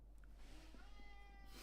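A house cat gives a single drawn-out, rising meow, fairly faint against a low background hum in a quiet workroom where watch casings are being restored.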